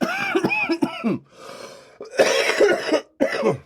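A person coughs repeatedly in harsh, hacking bursts close to the mic, with short pauses and a raspy throat-clearing between fits.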